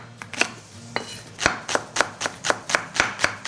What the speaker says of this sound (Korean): 반은 큼지막하게, 반은 송송 썰어 준비해 주세요.